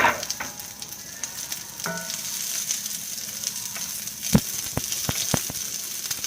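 Vegetables for honey orange chicken frying in a pan on a stove, with a steady close sizzle and a few sharp utensil taps and scrapes toward the end, no talk.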